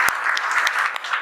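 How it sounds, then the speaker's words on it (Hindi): A classroom of students claps for three classmates selected in a civil engineering junior engineer exam, a close, lively patter of hands with a few sharper individual claps standing out. "ये तीनों के लिए भी ताली बजाइए"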